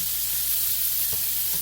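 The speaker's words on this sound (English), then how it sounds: "I have to add some more oil in here so this will keep right on frying." Beef for a stew fries in a pan topped up with extra oil, a dense continuous sizzle and hiss filling the short stretch, close and loud, with a faint stir or clink partway through and no voices.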